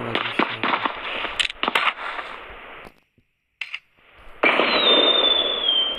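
Gunfire rings out in the battle royale game PUBG, a rapid cluster of loud sharp shots followed by a pause, then more distant crackling fire and a sustained whine.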